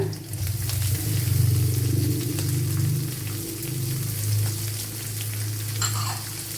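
Chopped onion frying in a pan with cumin for a Kerala-style rava evening snack gives a steady, dense sizzle with faint stirring scrapes and a low hum underneath, and no one talks.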